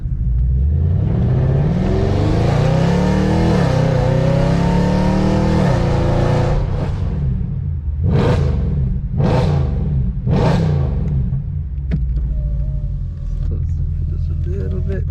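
A Mercedes C63 AMG Black Series, just off a track day, cruises on the road with a loud, deep engine drone rising through the gears, then several sharp revving bursts and a crackling exhaust.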